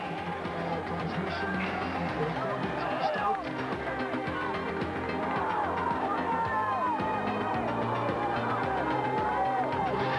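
A massive roadside crowd cheers riders on the Bosberg climb in the 1997 Tour of Flanders, a dense continuous roar of whoops and babble with a commentator talking over it.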